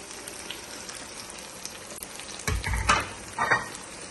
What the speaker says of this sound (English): Adding in the tomatoes and the spices.